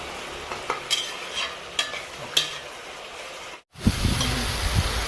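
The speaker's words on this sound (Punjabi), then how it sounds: "ਘੱਟੋ ਘੱਟ ਆਪਾਂ 15 ਮਿੰਟ ਜਿਹੜੇ ਆ ਪਿਆਜ਼ ਭੁੰਨਾਂਗੇ ਚੰਗੀ ਤਰ੍ਹਾਂ ਜਦ ਤੱਕ ਲਾਲ ਨਹੀਂ ਹੋ ਜਾਂਦੇ" Chopped onions frying in a pan for Punjabi paneer bhurji tadka, with rhythmic spatula scrapes over a constant sizzle, then a brief gap before louder, denser frying resumes.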